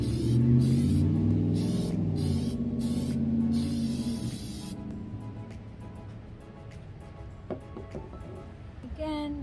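Repeated bursts of acrylic sealer aerosol spray onto a cup hiss in short pulses, then the spraying stops and faint handling noises follow.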